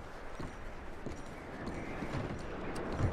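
Hooves of horses clip-clopping in Red Dead Redemption 2, a soft, uneven series of nearby thuds over a steady outdoor background hiss, quiet and without speech.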